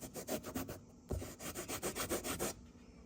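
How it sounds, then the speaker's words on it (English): Alcohol wipe scrubbed back and forth to remove glue residue left by retractable rear door window privacy shades, a close rhythmic rubbing in quick regular strokes with a brief pause partway through. "Using alcohol wipes, and we're able to get off the glue residue."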